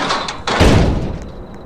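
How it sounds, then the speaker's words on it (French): A door shuts in the horror game Shawarma Kiosk Anomalies, a loud, close thudding slam followed by a fading rumble, with no talking. "Oh, fermez la porte."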